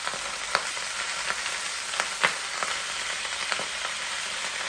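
Oxtails sauté in a Power XL cooker with a steady close sizzle, broken by a few sharp pops and crackles.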